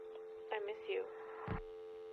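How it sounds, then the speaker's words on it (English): A flat, steady telephone dial tone within a song hums continuously beneath a few short vocal sounds and a brief thump. "And then like a dial tone, like a flat line."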